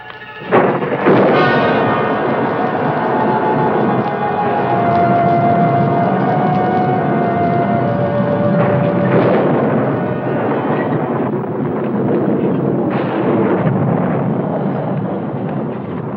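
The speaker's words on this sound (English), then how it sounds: "Another wonderful storm." A loud thunderstorm rumbles on continuously with heavy, booming thunder and a dense roar of wind and rain in an old western horror film, one sharp crack early and no voices.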